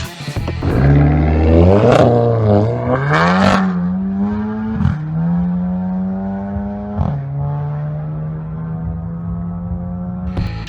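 A Volkswagen Golf GTI engine revs hard and climbs through quick gear shifts, each shift a sharp drop and step in pitch, then settles into a steady drone, loud and close.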